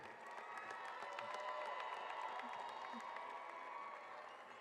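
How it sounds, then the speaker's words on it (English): A crowd at a 2025 high school graduation applauds and cheers for the graduating class, with quiet, steady distant clapping mixed with scattered whoops and shouts in a large space. "Let's give a round of applause for the class of 2025."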